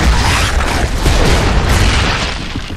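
A grenade blast in the video game Gears of War 3, a loud, rumbling boom that fills the whole moment and slowly fades away, with no talking over it.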